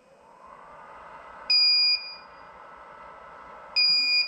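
Inverter low-battery alarm on a 2000W pure sine wave unit straining under a heat gun load, giving two loud, sustained high-pitched electronic beeps, each about half a second long, roughly two seconds apart, over a steady hum.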